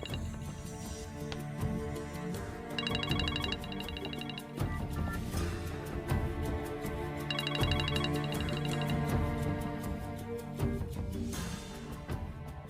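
A phone ringtone plays for an incoming call, a repeating electronic melody with bright trilling bursts recurring twice over steady backing tones, loud and close with no talk.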